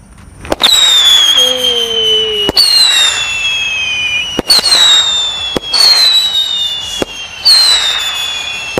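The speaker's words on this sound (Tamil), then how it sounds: "ஸோ விஸ்லிங் ஷாட் எப்படி இருக்குன்னு பார்க்கலாம்." Sivakasi whistling-shot firecrackers (Arabian Nights) launch one after another, about five in all. Each gives a sharp pop and a loud, high, gliding whistle that carries for a second or two before the next shot.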